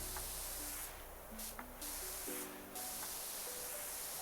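A pressure washer sprays in PowerWash Simulator 2 as a steady, close hiss that swells in short bursts, over faint sustained tones of background game music, with no talking.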